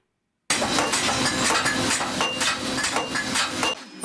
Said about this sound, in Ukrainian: Розпечений метал клепає Тетяна молотком